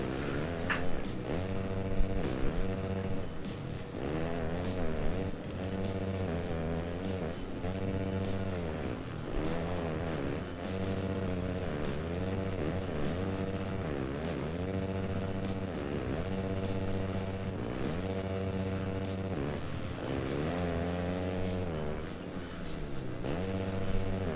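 Husqvarna 450 motocross motorcycles race in the Supercross video game, several buzzing engines rising and falling in pitch as they rev through the track, steady and continuous.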